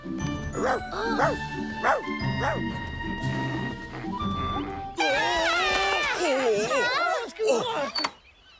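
A cartoon Viking character imitates a dog with voiced yips and barks, first in short repeated bursts and then a longer warbling run of whimpery dog-like yelps, all voiced by a person, up close and fairly loud.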